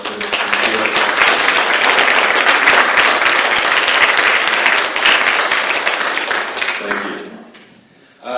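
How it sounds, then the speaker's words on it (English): An audience at a world congress applauds, a dense, loud, sustained clapping that fades away near the end before another sound cuts in. "just a big round of applause for Bill Nelson"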